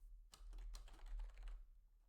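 Quiet clicking of keys on a computer keyboard during editing in the Vim text editor, a short burst of close taps over a low steady hum with no talking.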